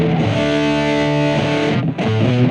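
A heavily distorted 80s metal crunch tone from an electric guitar run through a BOSS eBand JS-10 rings out in sustained, thick power chords, with a brief break before another chord is struck.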